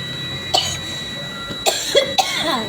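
Several separate coughs from a woman recovering from a cold, close and fairly loud, with short pauses between bursts and no talk.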